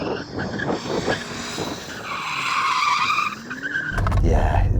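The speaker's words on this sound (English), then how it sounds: "You warm up your tyres." A BMW M car spins its tyres to warm them up, with a loud, close squealing screech and an engine roar that builds and holds near the end.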